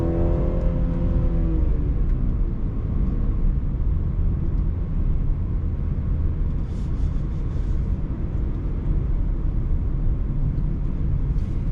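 Engine of a 2021 BMW 330i during gear changes from inside the car: a steady low rumble, with a brief rising and falling engine tone at the start, and no voices.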